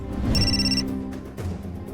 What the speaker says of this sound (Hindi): सर, एक रात पहले आकृति का फोन आया था।